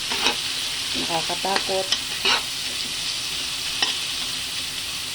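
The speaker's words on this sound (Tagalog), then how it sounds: "Habang nagatalsikan ang mantika" Hot cooking oil spattering and sizzling in a pan while frying chilies and onions for dinuguan, a steady hiss with sharp crackling pops clustered near the start; one voice says a brief word.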